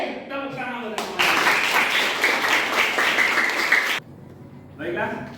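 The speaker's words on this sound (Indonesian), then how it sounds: "tepuk tangan untuk semuanya" A classroom of vocational school students breaks into loud, sustained group applause for several seconds, with brief talk before and after.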